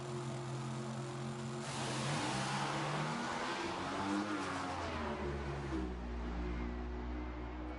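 A Top Methanol dragster at an FIA drag racing event makes its run with slight tire shake, a loud, sustained engine roar that rises in pitch as it accelerates and then drops away.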